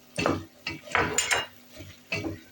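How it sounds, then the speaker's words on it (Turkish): Potatoes are stirred into a pot of meat and peas; a few close, distinct clanks and scrapes of a spoon against the pot come in uneven bursts with short pauses between them. "Onunla da birazcık şöyle bir çevireceğiz."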